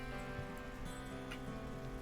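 Rain falls steadily on surfaces in the video game Stranded: Alien Dawn, a dense continuous patter with no voices over it.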